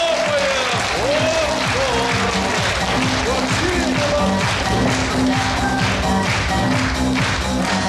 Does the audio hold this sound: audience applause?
yes